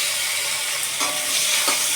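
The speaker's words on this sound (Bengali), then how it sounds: "আমি একটু টমেটো কুচি এর মধ্যে দিয়ে দেবো" Chopped tomato going into fried pointed gourd in a pan, a loud continuous sizzle close up with a couple of soft stirring scrapes.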